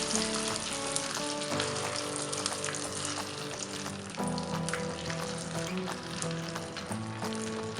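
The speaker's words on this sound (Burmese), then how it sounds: "အလဲလက်မီနဲ့ပူပေးထားတဲ့စီပူတဲ့ထည့်ကြော်ပေးပါမယ်" Pieces of dried tofu skin fry in hot oil with a continuous, quiet crackling sizzle, sometimes stirred, heard close and with no talk.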